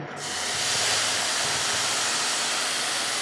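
Water poured into a hot pan of fried vermicelli and condensed milk, bursting into a loud, steady steaming sizzle that holds throughout.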